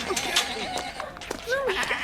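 A sheep bleats several times, wavering calls close by, amid a busy background of other noise and faint voices.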